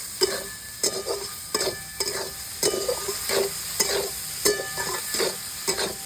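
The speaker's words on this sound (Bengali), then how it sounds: "সয়াবিনগুলো ভেজে নিচ্ছি লবণ দিয়ে বন্ধুরা" Soybean chunks fry with salt and turmeric in oil over a clay stove. A steady sizzle runs throughout, broken by regular, rhythmic scrapes and clacks of a spatula stirring in the pan, close and clear, with no talking.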